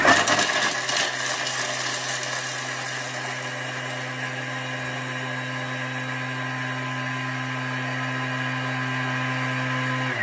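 A Thermomix blade whirs steadily while chopping parmesan cheese and 3-4 garlic cloves, a loud constant motor drone with a short rough burst at the start, running unbroken for about ten seconds with no talk.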